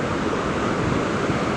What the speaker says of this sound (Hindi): अब पहाड़ों से इस तरह से पानी गिर रहा है